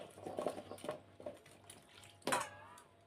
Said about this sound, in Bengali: খেজুরগুলো একটু জল দিয়ে ধুয়ে নেব